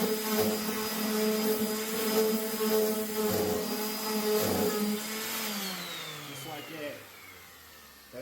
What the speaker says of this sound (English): Now we're going to be able to take the router over this whole thing